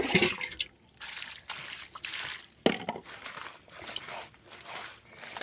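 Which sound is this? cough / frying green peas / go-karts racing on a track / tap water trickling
tap water trickling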